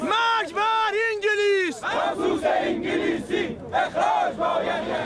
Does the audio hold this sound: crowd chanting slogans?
yes